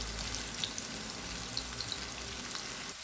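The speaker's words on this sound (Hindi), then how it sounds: "एक मिनट तक प्याज को फ्राई करेंगे।" Chopped onion fries in cooking oil on a tawa with a soft, steady sizzle and a few faint pops, quiet and continuous throughout with no voices.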